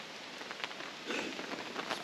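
Rain falling at a lakeside campsite on the shores of Lake Huron on a fall morning, a faint, steady patter of drops on surfaces with no voices.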